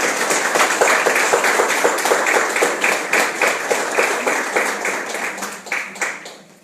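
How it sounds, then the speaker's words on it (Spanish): An audience at an educational event opening gives a performer a sustained round of clapping, dense and steady at first and then thinning and fading toward the end. "Fuerte aplauso para Horacio Santo Domingo."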